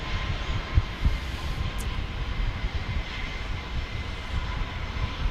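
An Alaska Airlines jet departing San Diego airport, heard as a steady distant roar of aircraft engines with rumbling low end, sustained and unbroken, no voices.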